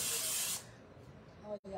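A short burst of aerosol cooking oil spray onto a pizza before air frying hisses for about half a second, then quiet kitchen background follows.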